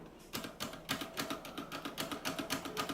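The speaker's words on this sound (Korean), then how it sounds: "스페이스바만 눌러볼까요, 따로?" Rapid, steady clacking of Maxtill G610K V2 keyboard keys with a heavier space bar thump from its Cherry stabilizer, close and crisp, repeating in a regular rhythm with no talking.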